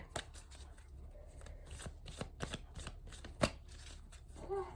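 Oracle cards being shuffled and picked, a quiet close-up run of soft riffling flicks and taps at irregular rhythm, with no talking.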